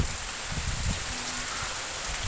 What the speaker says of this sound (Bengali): প্রচুর বৃষ্টি হচ্ছে আর বাতাস দিচ্ছে চারিপাশটা